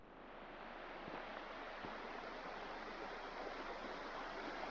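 Steady rushing of a creek flowing over rocks on a hay farm after a dry spell, a constant broadband water wash with no talking.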